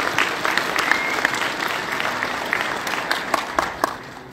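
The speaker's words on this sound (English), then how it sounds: "round of applause" Crowd clapping at a Hot Wheels collectors nationals finale, steady dense applause with scattered louder individual claps, holding across the span and tapering slightly at the end.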